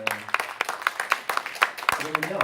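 Scattered applause from a church congregation for the worship team, sparse individual claps rather than a dense roar, heard at moderate distance with some voices underneath.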